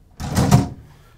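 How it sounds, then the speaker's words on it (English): A pull-out drawer in the kitchen of a 2021 Tiffin Wayfarer 25TW motorhome slides with a short, soft, rolling rumble that peaks in the middle and fades out within about a second, with no talk over it. "down here, we've got the pull-out drawer"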